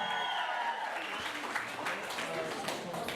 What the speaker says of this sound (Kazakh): шапалақ соғыңыздар